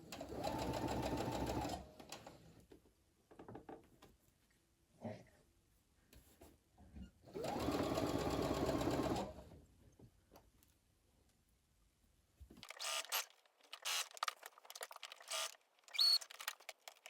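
A sewing machine stitches a tunic, running in steady whirring bursts of about two seconds each with pauses between, close and clear, followed by lighter rustling and handling of fabric.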